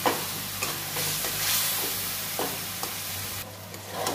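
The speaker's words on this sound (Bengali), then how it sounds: "হলুদ গুঁড়ো লঙ্কা গুঁড়ো ধনে গুঁড়ো জিরে গুঁড়ো সব দিয়ে আমি মশলাটা কষে নেব।" Turmeric, chili, coriander and cumin powders sizzle and fry in a pan with a little water while a spoon stirs them for khichuri. There is a steady, fairly quiet sizzle with soft scraping stirs at intervals, and no talking.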